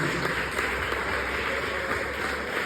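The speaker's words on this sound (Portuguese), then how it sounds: "Você pode aplaudir bem forte o Senhor Jesus?" A church congregation applauds during a service, with dense, loud, continuous clapping that fills the whole moment without a break.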